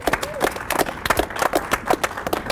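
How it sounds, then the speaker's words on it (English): Scattered applause rings out in a casino room for a poker tournament crew, a modest group clapping unevenly with a few louder claps near the mic, and voices murmuring underneath. "Give them a round of applause."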